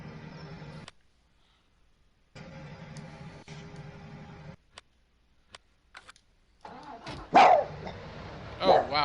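A dog barks a few times near the end, fairly close and sharp, after a stretch of steady hum and gaps, with a person talking around it.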